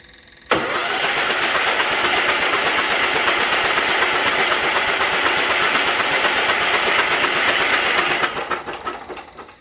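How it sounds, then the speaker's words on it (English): A Kohler Magnum engine fitted in a Case 446 garden tractor cranks over loudly and steadily for about eight seconds, a dense continuous churning whir that starts abruptly and then fades out. "we're just going to go ahead and crank it over right now and just make sure there's nothing in the cylinder bores or anything, and just make sure that it cranks over"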